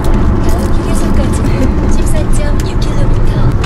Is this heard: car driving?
yes